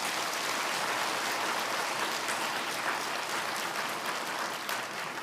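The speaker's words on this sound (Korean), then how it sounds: "우리 한번 크게 한번 박수하세요." A church congregation of youth students and teachers applauds loudly and steadily, a dense continuous wash of many hands clapping that fills the room throughout.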